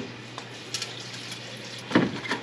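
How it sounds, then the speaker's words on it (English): Water is poured into a pot of bones for broth, starting as a faint trickle and swelling into a louder splashing pour near the end. "All I'm doing right now is adding water until the bones are just covered"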